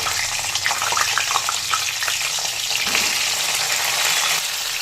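Cauliflower florets frying in hot mustard oil in a wok, a loud, continuous hiss and crackle heard close by, with a few light spatula scrapes early on.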